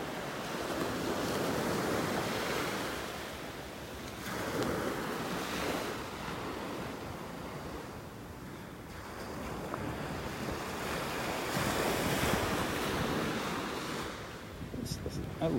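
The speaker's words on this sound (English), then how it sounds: "Listening to the waves." Ocean waves breaking on the beach at Delnor-Wiggins in North Naples, Florida, on a morning walk: a steady, loud wash of surf swelling and receding in slow surges, with wind buffeting the microphone.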